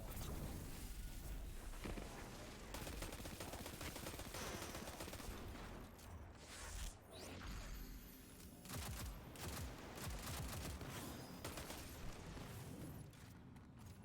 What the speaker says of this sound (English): Your machine gun is doing anti-overload thanks to your artifact.